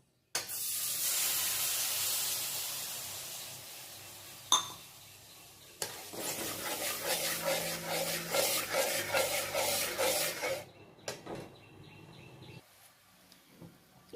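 Milk poured into a pan of white sauce for pasta, a steady hissing spray that builds and fluctuates for several seconds, then settles into quieter scraping and stirring near the end.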